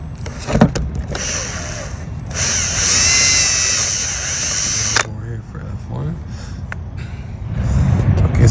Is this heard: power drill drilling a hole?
yes